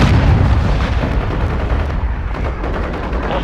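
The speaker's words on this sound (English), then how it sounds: "Hostile cruise missile launched." Heavy explosive booms and rumbling blasts from a cruise missile strike in the video game Modern Warfare 2, loud and continuous with dense low-end thunder throughout.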